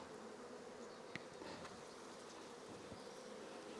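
A caught honeybee swarm drones steadily on a hive frame full of pollen, a dense continuous hum heard fairly close, with a few faint knocks and no voices.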